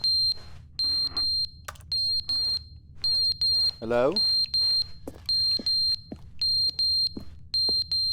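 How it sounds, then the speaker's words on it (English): Smoke alarm in the video game The Stanley Parable sounding a loud, rapid, repeating series of shrill beeps in steady groups, with someone speaking briefly in the middle. "Smoke alarm's going off?"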